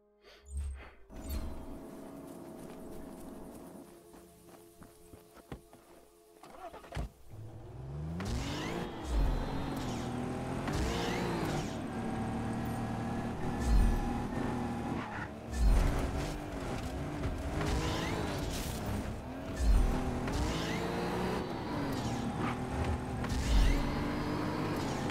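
Car in the Just Cause 3 video game, starting with quieter mechanical clicks and hum, then accelerating and revving hard with repeated rising engine sweeps and thumps, loud and sustained.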